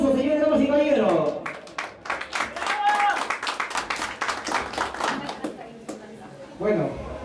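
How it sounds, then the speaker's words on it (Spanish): Guests at a 50th birthday celebration break into lively hand clapping that lasts several seconds, loud and close, with someone speaking over the room before and after. "Recibe un cuarto fuerte de aplausos, señores, damas y caballeros."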